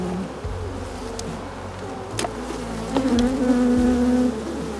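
Honey bees buzz around an open hive in Alaska, a close, dense swarm hum with individual bees droning past and a louder steady buzz swelling in the second half.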